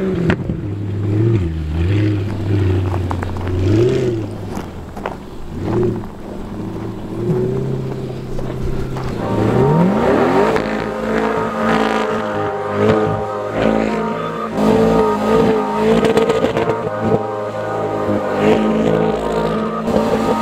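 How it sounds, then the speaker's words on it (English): C8 Corvette drifting on snow, engine revving up and down at first, then climbing into a loud sustained high-rpm wail with wind buffeting, close and no talking. "I don't think I've ever seen a Corvette drifting in the snow."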